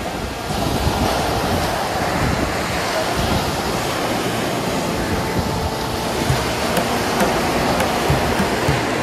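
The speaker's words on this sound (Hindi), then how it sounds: "समुद्र की लहरें" Sea waves wash continuously onto the sand at Corbyn's Cove Beach in Port Blair, Andaman and Nicobar, a steady broad roar of surf mixed with wind buffeting the microphone.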